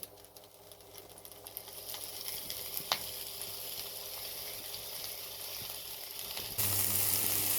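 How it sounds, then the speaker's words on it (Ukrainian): Vegetables sizzle and crackle steadily in hot oil in a frying pan, a continuous frying hiss that grows a bit louder near the end. "На пательню вливаю олію, вона вже кипить і вкидаю овочі."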